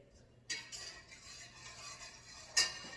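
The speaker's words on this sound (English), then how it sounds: "we stir this continuously for 15 minutes. Keep stirring it." Rice and milk stirred in a pan for Indian kheer, with soft scraping and a couple of sharp spoon clinks against the metal over a quiet background.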